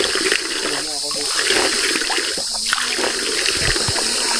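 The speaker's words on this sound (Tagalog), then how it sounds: "Eto, flowing lang, kusang lumalabas ng tubig at pwedeng inumin" Free-flowing drinkable water pours steadily from a public tap, a constant rushing hiss while people talk nearby over it.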